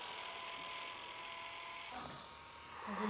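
A small toy brush robot buzzes along steadily with a fine high-pitched whir, shifting slightly in tone near the end as it moves.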